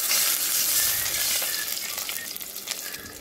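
Chopped onions sizzle steadily in leftover fish-frying oil as a curry starts cooking, a constant close frying hiss that eases slightly toward the end, with no voices.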